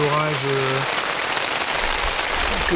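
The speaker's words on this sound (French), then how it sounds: "on vient d'avoir un gros orage qui vient de tomber, ça a claqué de partout, il pleut" Steady, dense patter of heavy rain from a thunderstorm drumming on a tent close by, with a brief voice murmuring under it at the start.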